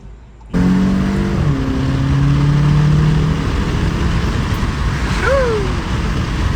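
Car fitted with a 034 MQB intercooler accelerating hard, its engine note rising steadily and loud from inside the cabin with a steady road roar, and no talking.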